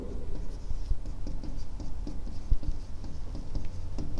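A pen scratches across paper in quick, steady strokes during a physiology lesson, close and fairly quiet, with a soft rhythmic patter of short marks and no talking.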